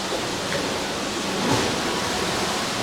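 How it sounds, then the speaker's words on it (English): Rain drums on the closed retractable roof above a cruise ship's indoor pool aboard the MSC Meraviglia, a dense steady hiss with no clear talk. "It's raining."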